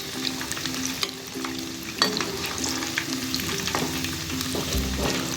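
Cauliflower pakoras fry in hot oil with a steady close sizzle, broken by occasional scrapes and clicks as they are turned, and no voices.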